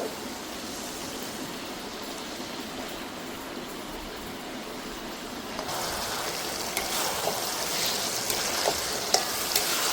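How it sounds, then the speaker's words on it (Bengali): Pork meat hits a pan of fried spice paste. A soft, steady sizzle turns into a brighter, louder crackle partway through, with occasional stirring scrapes and no voices. "আর মশলাটা কষানো হয়ে গেছে, এবার আমরা দিয়ে দেবো মাংস"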